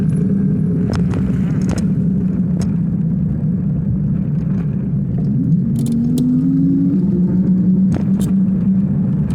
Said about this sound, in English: There's a truck. It's a truck.